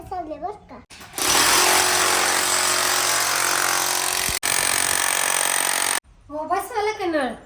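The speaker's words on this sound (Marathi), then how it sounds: "मशीन ते होल पाडायचं मशीन आहे" An electric drill bores holes into a wall during tap-fitting plumbing work, roaring loudly and continuously for about five seconds with one brief break, with people talking just before and after.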